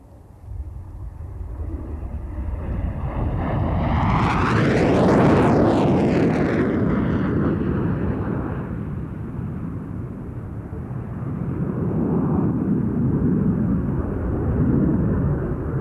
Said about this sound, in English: Here, the F-111 performs its airshow party piece, Dump and Burn.